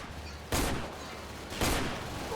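Gunfire in the Roblox air-war game Zeppelin War, two loud broadband blasts about a second apart, each decaying slowly against steady background noise.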